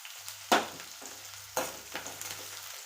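Onion and tomato frying in a pan with dill-leaf lentil curry cooking, two sharp sizzle bursts as ingredients drop in, then a steady soft crackle with stirring, no talk.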